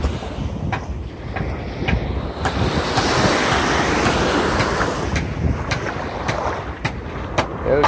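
Surf rolls onto Hellshire Beach in Portmore, Jamaica, a steady broadband wash of breaking waves with gusty wind buffeting the microphone throughout, fairly loud and close, with no talking over it.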